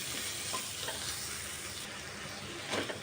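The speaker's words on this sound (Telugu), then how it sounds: "ఇంకొంచెం ఫ్రై అవ్వాలి." Ivy gourd sizzles steadily as it fries in a pan, with a few scraping stirs of a spoon through the pieces, close and moderately loud with no talk.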